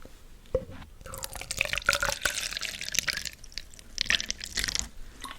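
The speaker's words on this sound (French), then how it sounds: "Ok, je vais te servir un peu d'eau." Water poured into a glass during a close-miked school nurse roleplay, with trickling and splashing that rises in bursts and faint clinks of the glass, recorded intimately with no talk.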